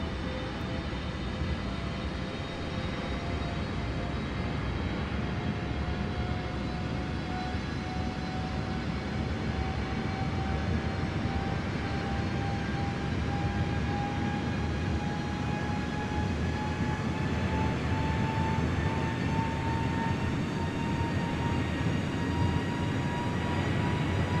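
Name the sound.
airliner engines during climb, Microsoft Flight Simulator video game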